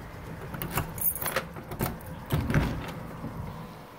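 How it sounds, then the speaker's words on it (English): A bunch of keys jangles and clinks close by while being tried in a closet door lock, several irregular metallic rattles with small pauses between. "See if I can get one of these keys to work."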